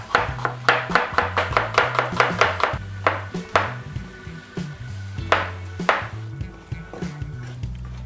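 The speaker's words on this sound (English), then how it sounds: "Okay, let's see some chopping skills." Vegetables being chopped on a board with a knife in a home kitchen while pasta with chicken is prepared, a fast run of close, crisp strikes followed by sparser, irregular cuts and a few clattering knocks.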